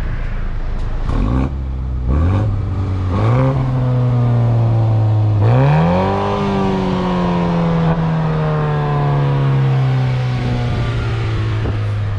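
A car engine revved in neutral with its exhaust, loud and close, with a few quick throttle blips and then a long rising rev that holds and slowly drops back down.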